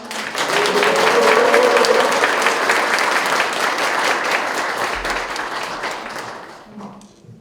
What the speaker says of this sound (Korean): 큰 박수와 함성으로 시작하도록 하겠습니다